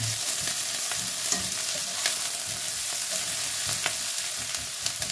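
Onion and garlic sautéing together in a pan, a steady close sizzle of frying with occasional scrape and stir noises and no talking.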